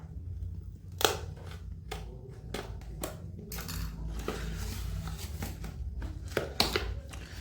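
Blade cutting and tearing through the cardboard packaging of a 2.5 watt USB desk fan: a run of sharp scraping slices and crackly rips, close and fairly loud, with irregular bursts over steady low background hum.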